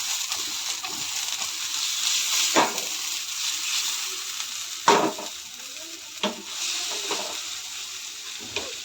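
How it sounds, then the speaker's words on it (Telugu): Paneer cubes frying in a pan of leftover oil, a steady bright sizzle running throughout with a few sharper crackles and pops, up close and with no voices. "సో ఇందులోనే మనము ఈ పన్నీర్ వేసి అయితే ఫ్రై చేసుకొని పక్కన పెట్టుకుందాం"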